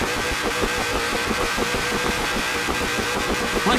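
A car engine revving in a video game, a steady buzzing mid-pitched motor drone with rapid pulsing, loud and continuous with no talk over it.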